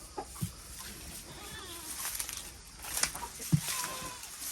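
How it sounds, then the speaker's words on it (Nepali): Two chickens, including a rooster, on a village home farm in Charikot, Dolakha, making soft, scattered clucks and short calls at moderate distance over a low outdoor background. "दुईटा कुखुरा रहेछ।"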